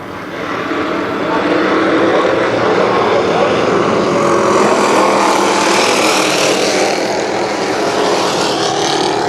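Race cars at Kil Kare Speedway during the Memorial Day Championships roaring loudly through turns 3 and 4 as a steady, sustained engine drone, with a faint announcer's voice under it.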